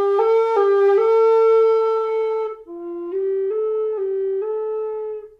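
A recorder with a metal labium plays a slow solo line of held notes, each swelling and fading with breath-driven crescendos and decrescendos, clear and close with a short break midway.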